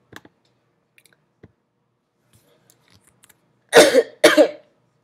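Two loud, harsh coughs in quick succession from a person close by, following a stretch of near silence broken only by faint clicks.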